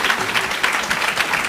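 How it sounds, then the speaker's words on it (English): Brief audience applause at a Black History Month celebration at Macy's: a short burst of crowd clapping, fairly close and steady, with no clear talk over it. "You may applaud if you, yeah,"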